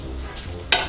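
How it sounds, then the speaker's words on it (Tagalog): A spoon stirs spaghetti sauce with mushrooms as it simmers in a pan, a quiet bubbling murmur broken near the end by a short, brighter scrape-and-sizzle burst, with no one speaking. "Haluin natin para maluto."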